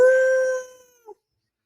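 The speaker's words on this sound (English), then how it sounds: "The, the wolves are howling." A single drawn-out wolf howl, loud and close, holds steady and then fades over about a second, followed by a short faint yelp.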